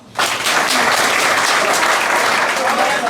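A school class of students applauds together in a steady, dense burst of clapping that starts abruptly and holds loud and close throughout.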